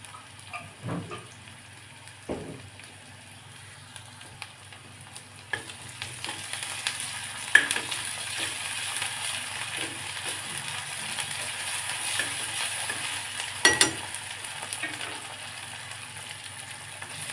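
Onions with ginger garlic paste fry in a pan for idiyappam egg kothu, a steady soft sizzle under occasional scraping stir strokes and a few sharper knocks of the spoon, fairly quiet throughout with no talk.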